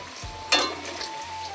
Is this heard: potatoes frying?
yes